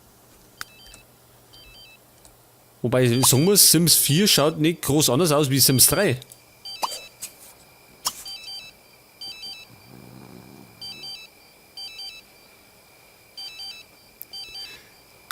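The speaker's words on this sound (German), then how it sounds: "jetzt leitet das Telefon schon wieder" A telephone rings in The Sims 3, with repeating short electronic ring bursts through the clip alongside background game music, and someone talks loudly in German over part of it.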